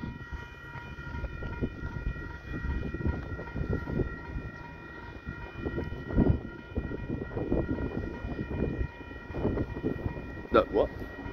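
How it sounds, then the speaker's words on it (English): A night train passes through on its way to Christchurch, a continuous rumble of wheels and rail clatter with scattered knocks, moderately loud and steady, with a brief horn-like tone near the end. "This is your train coming through to Christchurch"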